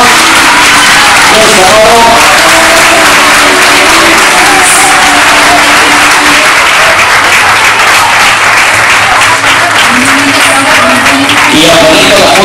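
A crowd applauds at a primary school graduation, a loud, sustained wash of clapping that fills the whole stretch, with voices talking over it.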